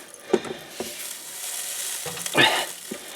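Epsom salts poured and stirred into garden soil for tomato planting, giving soft gritty scrapes and rustling bursts with brief pauses between, close and fairly quiet, with no talking.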